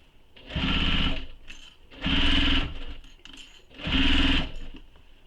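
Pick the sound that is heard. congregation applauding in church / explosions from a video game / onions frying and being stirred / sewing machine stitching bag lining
sewing machine stitching bag lining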